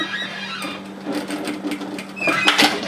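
A sewing machine runs a short burst of tack stitches on a bomber-style varsity jacket, a close mechanical whir with rapid needle pulses lasting a few seconds.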